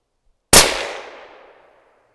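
A single rifle shot is fired while sighting in a Pulsar Digex C50 scope, one sharp, loud crack after a moment of silence, followed by a decaying echo lasting over a second.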